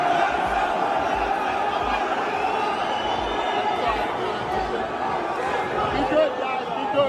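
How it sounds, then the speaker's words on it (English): A big fight-night crowd roars and chatters in a heated arena, a dense, continuous wall of voices with scattered shouts rising over it, steady and loud throughout. "Bro, listen to the crowd, bro. Oh, that's fight atmosphere right there."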